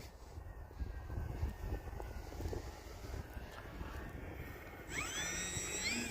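An electric RC plane with a Tundra motor on a 4S battery whines at part throttle, a steady high buzz with wind rumble, rising into sweeping pitch changes near the end.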